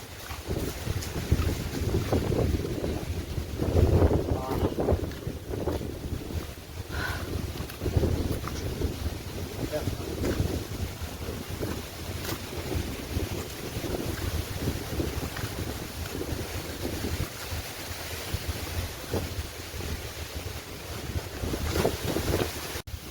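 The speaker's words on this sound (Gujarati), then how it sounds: "પવન જો કેટલો દુનિયાનો કાળા ગજબનો પવન આવે" Strong wind roars and buffets the microphone continuously at Uparkot hill fort, with low rumbling gusts and a faint whistle, no voices.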